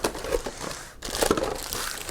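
Crinkly plastic packaging rustles and crackles loudly and up close as an ASUS STRIX Tactic Pro gaming keyboard is pulled out of it, with a brief pause partway through and no talking.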